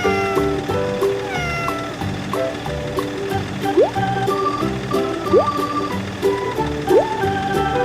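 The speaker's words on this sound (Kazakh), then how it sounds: "Мысық." A domestic cat meows several times, rising and falling cries spaced a second or so apart, close and clear over a continuous background murmur.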